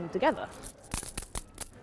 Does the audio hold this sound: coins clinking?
yes